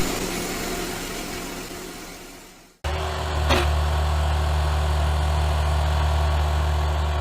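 Kubota KX57 engine running steadily at close range, a continuous low droning hum with a brief clattering burst early on, after which the idle settles into an even, loud rumble.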